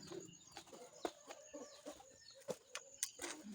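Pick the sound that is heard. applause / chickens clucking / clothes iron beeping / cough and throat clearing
chickens clucking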